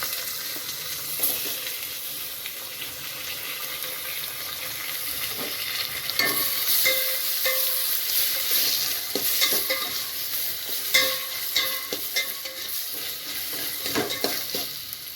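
Onions and chopped tomato pieces frying in a pan, a steady crackling sizzle under intermittent stirring scrapes and clinks, close by with no talking.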